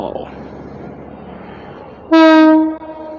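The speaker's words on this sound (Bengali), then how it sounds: "এটা কোন ট্রেন যাইতেছে?" A passenger train on a railway gives one loud, steady horn blast of under a second, close by, after a stretch of low rumbling background noise.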